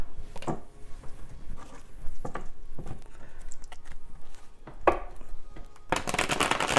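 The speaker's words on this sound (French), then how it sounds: "je vais pas la prendre parce que je suis en train de brasser le jeu" A deck of cards being shuffled by hand at a table, giving soft riffles and taps in irregular bursts, ending in a longer, denser rush of flicking cards.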